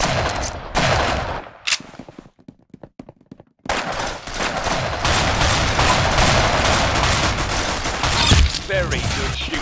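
Gunfire in Roblox Arsenal comes in loud, rapid, sustained bursts like automatic weapons, with a short lull of scattered single shots before a dense stream of shooting resumes.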